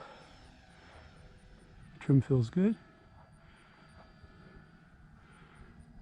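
An E-flite T-28 radio-controlled model airplane on a 3-cell battery drones steadily overhead with a thin, whining motor hum, while someone speaks briefly over it.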